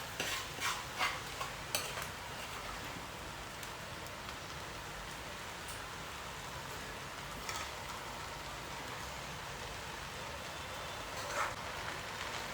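Curry being added to a pot for a West Godavari style prawn pulao, with a steady, quiet sizzling hiss and a few scraping stirs near the start and again around the middle, no voices.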